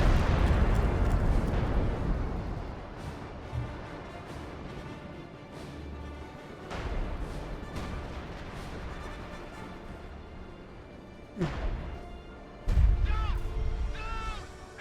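A Nebelwerfer rocket artillery barrage in Company of Heroes 2 lands as a series of booming blasts and crashes scattered over the battle noise, with sharp impacts near the end.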